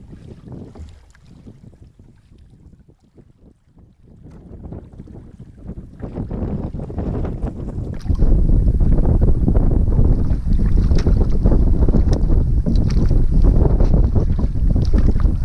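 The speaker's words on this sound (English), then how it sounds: "Got into a little bit of a headwind." Headwind gusting over St Regis Pond in the Adirondacks while canoeing, rumbling faintly at first, then swelling into a loud, constant roar buffeting the microphone.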